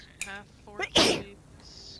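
One loud, sharp sneeze bursts out close to the microphone right after a short spoken phrase, followed by quiet.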